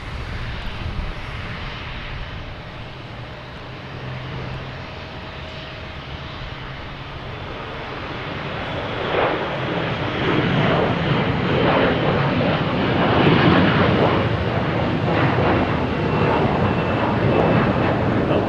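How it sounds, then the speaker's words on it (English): A Delta Airbus A321 takes off from Boston Logan toward Orlando, jet roar building from a moderate hum into a loud, sustained rumble in the second half. "next taking off, we have Delta, an A321 heading to Orlando"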